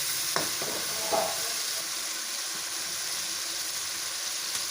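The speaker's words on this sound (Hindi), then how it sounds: "अचार गोश्त का मसाला अच्छी तरह भून लेंगे" Tomatoes and achar gosht masala frying in a pan, with a soft, steady sizzle throughout and a couple of brief scraping stirs near the start.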